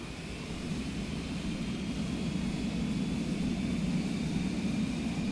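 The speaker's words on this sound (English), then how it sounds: "So I'm going to slam the throttles up." Aircraft engines in Microsoft Flight Simulator 2020 spool up as the throttles are pushed forward, a steady roaring drone that swells slightly louder over several seconds, with no speech.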